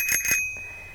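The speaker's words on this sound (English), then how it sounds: "and I got this cute little bell." A small bell on a 2021 Trek Verve 2 Disc Lowstep bicycle rings twice in quick succession, close and bright, with a short metallic ring-out afterward.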